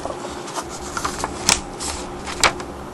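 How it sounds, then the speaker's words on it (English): Paper notes being shuffled and handled close by, giving a few soft rustles and two sharper crisp flicks of sheets across about three seconds. "forgive me if I shuffle my notes a little."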